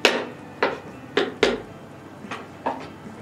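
A banana stem is chopped for soup in a home kitchen: about six sharp knife strikes land close by at uneven intervals, with no talking.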